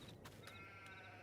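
A sheep in the farming game Farming Simulator 22 gives a steady, sustained bleat lasting about a second, heard alone against faint background noise.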